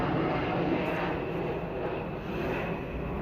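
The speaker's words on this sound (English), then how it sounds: "I got another plane coming." An airplane passes overhead, a steady, fairly loud broadband engine roar that holds throughout with a slight dip midway, with no talking.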